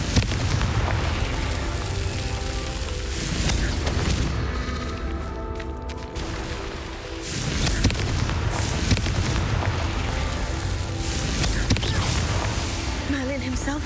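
Confringo blasting curse explosions in the Hogwarts Legacy video game: dense, booming bursts that stay loud and busy for the whole stretch, layered with other game sound, with a brief dip in the middle.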